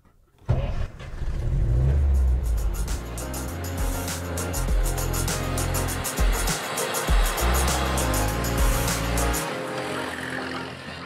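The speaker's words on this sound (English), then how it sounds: "Okay, now we start the engine." A Soviet GAZ Pobeda car engine cranks and catches, then revs loudly and unevenly up close, with several surges and dips before settling toward idle.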